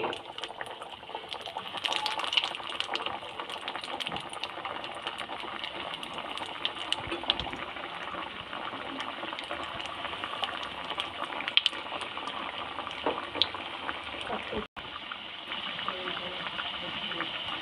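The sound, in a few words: fish cutlets (bhola fish) frying in hot oil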